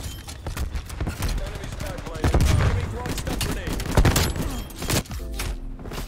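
The Streetsweeper shotgun in Call of Duty: Black Ops Cold War fires continuously as a fast string of heavy blasts, with loud booms and someone talking over the shooting.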